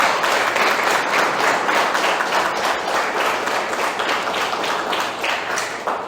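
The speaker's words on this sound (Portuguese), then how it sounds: "uma salva de palmas para ele" A seminar audience gives a steady round of applause at a livestock coffee-morning event in Brazil, dense clapping filling the room throughout without talk.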